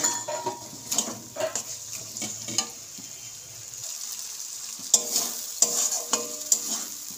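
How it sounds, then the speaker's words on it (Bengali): Spice paste with tomato stir-fries in a pan for ghugni with dried peas, a sizzling hiss punctuated by frequent scraping strokes of the spatula, close and lively, getting busier toward the end, with no voices. "মশলাটা আমি এবার ভালো করে কষিয়ে নেব।"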